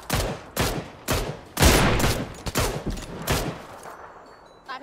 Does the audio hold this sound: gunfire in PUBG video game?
yes